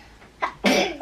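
A single sharp sneeze bursts out close by, preceded by a short intake and followed by a brief noisy tail, in a quiet indoor family setting.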